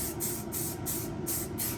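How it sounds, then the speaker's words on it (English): Universal mold release sprayed from an aerosol can into vacuum forming molds for RC truck ramps: a steady hiss in several short bursts with brief gaps, close and fairly loud, no talking. "We use this universal mold release. Just gonna spray in here"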